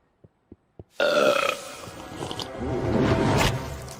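A loud, drawn-out belch rumbles for about three seconds, preceded by three short soft ticks.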